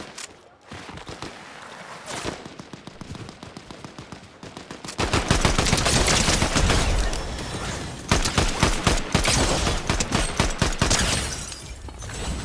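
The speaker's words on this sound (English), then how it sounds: "Oh, he's shooting through the trees." Rapid automatic gunfire rattles in Fortnite, first as quicker, lighter bursts and then as louder, dense sustained volleys from nearby, with only brief pauses between strings of shots.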